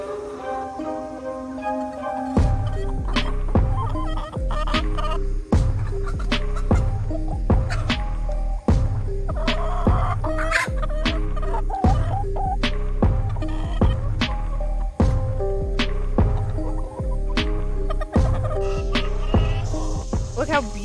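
Backyard hens, including a blue laced red Wyandotte, cluck and squawk nearby over a steady low hum, with repeated sharp clicking or pecking sounds scattered throughout, as they eat watermelon.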